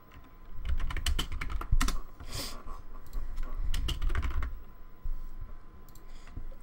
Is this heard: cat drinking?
no